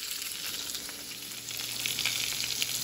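Breakfast sausage sizzling in a pan, a steady, bright, crackling fry that grows slightly louder and busier toward the end, with no one talking.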